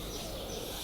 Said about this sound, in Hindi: यहाँ तो चारों तरफ चिड़िया बोल रही है